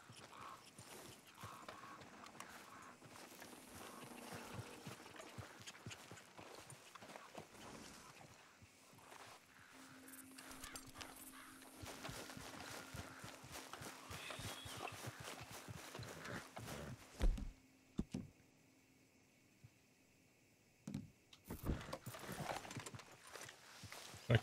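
Horse hooves clip-clop steadily as a horse pulls a cart through the Red Dead Redemption 2 game world, a quiet rhythmic plodding with a faint rolling rumble and a few louder knocks near the end.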